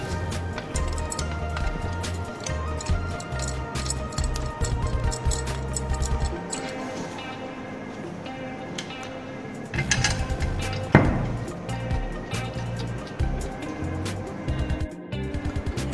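Metallic clanks and taps from tightening the bolts on a MYCOM compressor side cover with a wrench, a steady run of close knocks over a busy workshop background with a few louder strikes.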